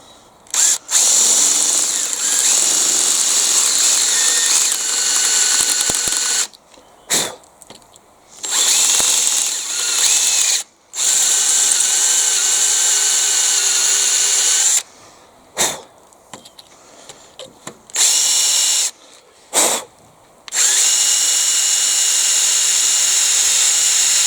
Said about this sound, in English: right, that hole is now drilled